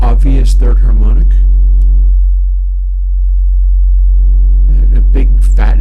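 A sine test tone run through an audio plugin with a strong third harmonic, a steady buzzy tone with stacked overtones sounding between stretches of talk, briefly isolated and dipping in the middle.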